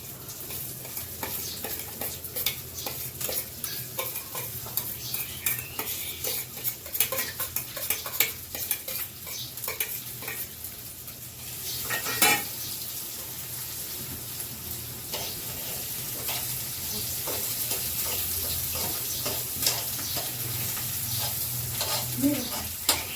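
Chopped onion hits oil already cooking chili, ginger and garlic in a village-style kitchen, producing a dense steady sizzle with repeated spoon scrapes and clinks against the pan, close and continuous, no talk.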